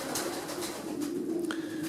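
Racing pigeons coo in a breeding loft, soft low murmuring under a steady background hum, with a brief sharper sound near the end and no speech.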